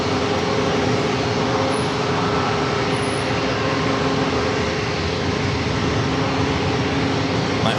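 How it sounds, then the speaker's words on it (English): An Air Canada Airbus A220-300 arriving from Toronto at San Diego airport gives a steady, broad roar that holds evenly for the whole stretch without clear peaks or breaks. "Next arrival is Air Canada Flight 1093 coming from Toronto."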